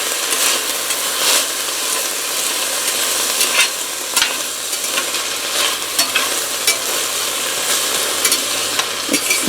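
Garlic sizzling loudly in a hot pan for a bean and collards soup, a dense continuous crackle with scraping accents as it is stirred.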